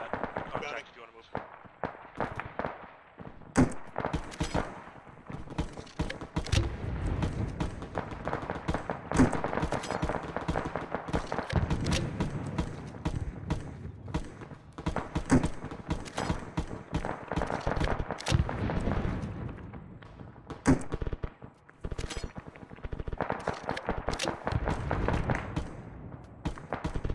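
Gunfire in the military shooter Arma 3, with rapid, continuous bursts of shots cracking close and loud throughout and a few heavier reports, while players talk over radio.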